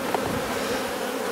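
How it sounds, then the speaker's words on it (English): Honey bees buzz steadily at an opened hive fitted with a feeder during a shook swarm, a dense close swarm drone with no voices. "Let's just move the bees off here because we don't want to crush any"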